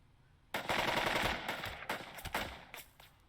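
Machine gun fire in the Burden of Command wartime game, a loud sustained burst followed by several shorter rattling bursts, with no talking.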